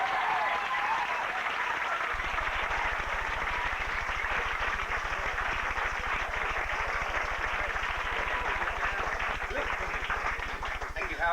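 Steady applause from an audience at a Hollywood café comedy show, moderate and sustained throughout at a constant level, with a low hum underneath.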